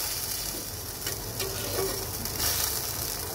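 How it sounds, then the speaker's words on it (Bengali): Pre-fried tengra fish simmer in a thin, bubbling broth with yardlong beans, giving a constant close sizzle and hiss with light scraping stirs throughout; no talking. "ভেজে রাখা মাছগুলি দেওয়ার পরে একটু হালকা নেড়ে দেব"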